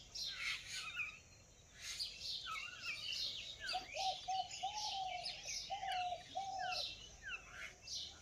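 Outdoors, doves and mynas call together: repeated mid-pitched cooing notes at a moderate distance mixed with busy chirps and whistles from smaller birds, with no talk.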